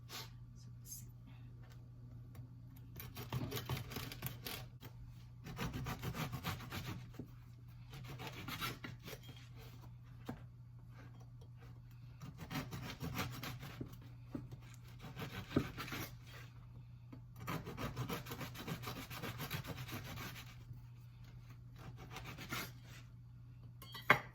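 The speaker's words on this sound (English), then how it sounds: "we're going to slice it up into 1/4 inch diagonal slices" A knife saws through a crusty baguette, cutting thin diagonal slices in repeated bursts of rasping strokes with short pauses between, close by over a steady low hum.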